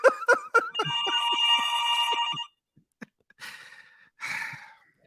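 A telephone rings with a loud, repeated bright electronic trill, then short faint bursts follow after a pause; no speech is present.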